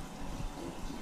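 A low, steady watery hum and gurgle of a fish-room aquarium tank pump circulating water, continuous and fairly quiet.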